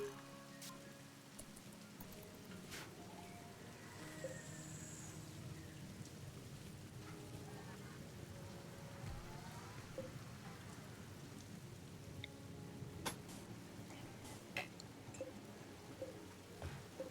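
Steady rain falling throughout, a soft continuous hiss with scattered drops and occasional low rumbles, faint and even, with no voices.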